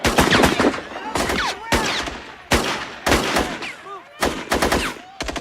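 Bursts of film gunfire from rooftop snipers crack out in repeated sharp volleys and rapid automatic strings, loud and close, separated by brief pauses.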